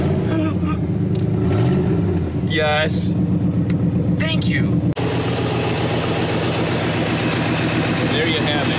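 An old car, neglected in a field and running on a corroded battery terminal, catches and settles into a rough, steady idle, with people briefly talking over the engine noise.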